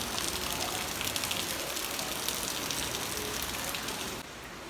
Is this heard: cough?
no